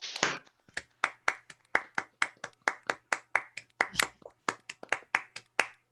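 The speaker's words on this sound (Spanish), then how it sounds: "Le pediría a todos los que están aquí presentes que abran sus micrófonos para poderle brindar un aplauso al doctor Roberto Cañedo" Scattered hand claps from a small online audience over open Zoom microphones, about twenty sharp separate claps in an irregular rhythm, close and dry, no voices.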